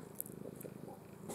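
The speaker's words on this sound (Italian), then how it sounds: "c'è la micia che si struscia" A cat purrs softly and steadily while rubbing against someone indoors, a low continuous rumble at close range with faint rustling over it.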